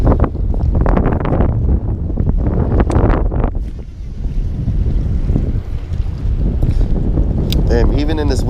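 Strong wind buffets the microphone at a bay shoreline near a pier and ferry landing during fishing, a steady broadband roar with gusts that swell and ease throughout, with some brief speech-like sounds mixed in.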